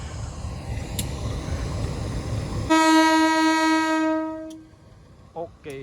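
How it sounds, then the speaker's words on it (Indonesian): A Sri Tanjung passenger train sounds its departure horn signal at a station: one long, loud, steady tone lasting about two seconds over a rumbling idle, then cutting off, followed by a few short squeaky metallic sounds. "Oke, semboyan 35 sudah dibunyikan."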